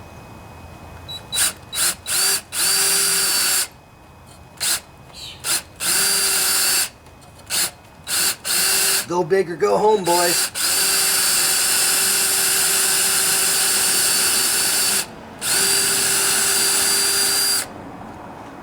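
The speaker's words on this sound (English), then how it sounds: "Always makes me nervous drilling into the head." A power drill whirs in repeated short bursts, then runs longer and steadier as it bites into the metal engine head of a Toro TimeMaster lawnmower; someone speaks briefly between bursts.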